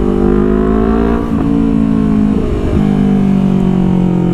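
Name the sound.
motorcycle with R9 aftermarket exhaust revving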